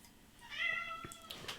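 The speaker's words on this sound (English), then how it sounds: "He's a very loud cat. He's very vocal." A loud, vocal house cat gives a drawn-out meow with rising and falling pitch, followed by a couple of shorter chirpy calls, fairly close against a quiet room.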